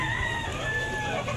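A Hatch grey rooster, a broodcock, crows once in a long drawn-out call, loud and near, over a steady background hum.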